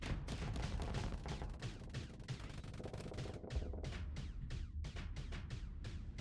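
Starship weapons fire in a Starsector space battle as a dense, rapid barrage of overlapping shots, later thinning into distinct repeated bursts over a steady low rumble.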